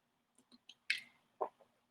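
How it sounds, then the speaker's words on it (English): A person takes a swig of water at a microphone, with several small wet mouth clicks and then a louder gulp and swallow, close and quiet with no talking. "I've got to grab a little swig of water here because it's dry here."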